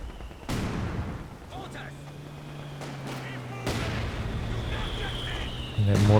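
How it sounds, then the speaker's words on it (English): Mortar fire from a mortar pit in Company of Heroes 2 during a 4v4 match, sharp loud thumps and blasts at intervals over a battlefield din, with someone talking over the action. "We've got a brick mortar pit up here from Hans now"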